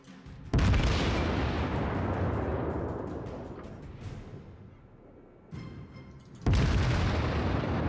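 Battleship main guns firing in the World of Warships naval game, a Tier III Kawachi: three heavy booming salvos, each with a sharp onset and a long rumbling decay, loud and close.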